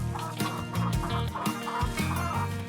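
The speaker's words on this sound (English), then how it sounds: "A speckled Sussex hen is taking her older chicks for a morning stroll." A speckled Sussex hen and her older chicks cluck and peep softly outdoors during a morning stroll, a steady close murmur of bird calls.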